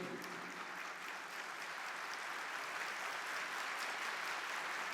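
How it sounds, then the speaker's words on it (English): A large convocation audience in Bangalore claps for the assembled parents, a steady, distant wash of applause that holds evenly throughout. "A big round of applause to the mothers and fathers who have come in large numbers."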